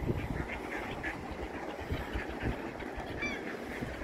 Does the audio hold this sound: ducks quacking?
yes